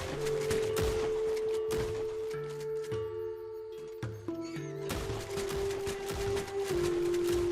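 Rapid volleys of Varmint rifle shots fired from the hip in Red Dead Online, a fast run of sharp cracks with ringing tails that thins to a short pause midway and then resumes with another loud burst.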